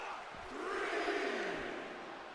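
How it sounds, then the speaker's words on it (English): A large arena crowd in a wrestling video game roars and cheers in a steady, loud wash of noise that swells slightly in the middle, with no clear speech over it. "this Minnesota crowd in love with CM Punk right now"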